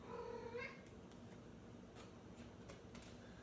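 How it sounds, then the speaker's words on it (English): A pet cat gives a short meow near the start, over a steady low hum of fan-like background noise, followed by a few faint soft clicks and knocks. "That's my kitty Annabelle"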